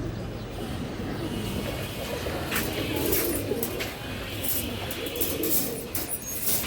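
Large Giribaz pigeons cooing in soft, low repeated calls amid a busy background of chirping birds and faint murmurs.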